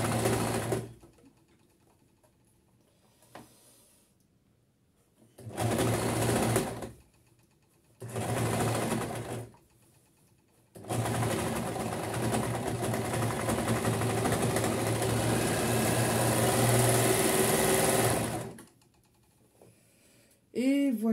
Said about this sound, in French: J'ai bientôt terminé de coudre la basque au corps.